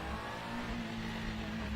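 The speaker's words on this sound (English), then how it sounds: "Certainly got a cool sound to it as well. A screaming V6." Screaming V6 engine of a mid-1990s Alfa Romeo DTM touring car in the Assetto Corsa racing game, a steady high engine drone held briefly at moderate volume, alone.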